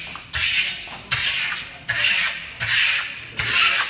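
A trowel burnishes the final coat of marmorino Venetian plaster, giving five rhythmic, close rasping strokes, each a loud scraping sweep with brief pauses between them.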